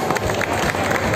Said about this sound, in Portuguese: As palmas pro Tocho que ele merece